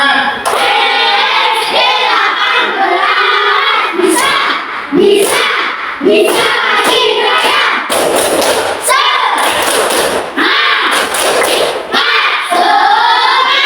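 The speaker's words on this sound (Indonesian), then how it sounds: "Coba kita ulang lagi, tepuk semangatnya." Schoolchildren in an Islamic religious education class chant and clap a rhythmic 'tepuk semangat' routine, loud and close, with sharp claps and thumps in quick patterns amid shouted group voices and a teacher speaking.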